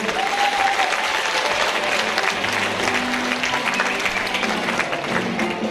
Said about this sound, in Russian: Вот здесь можно аплодисменты.